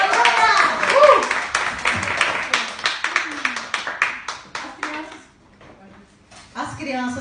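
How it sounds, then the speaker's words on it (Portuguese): Church congregation clapping for a child named Benjamin, a brief burst of hand claps early on that thins into scattered claps and fades, with voices talking over and after it. "Palmas para Benjamin, aleluia!"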